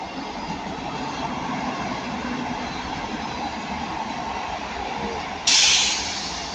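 Train passing through Ardwick station, a steady rumbling rush of wheels and rails close by, with a sudden bright hiss bursting in near the end.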